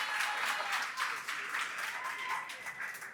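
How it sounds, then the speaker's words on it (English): A room of supporters and community members applauds for Amanda at a celebration gathering, with a steady, dense wash of clapping that holds throughout and voices mixed in underneath. "Give a round of applause for Amanda"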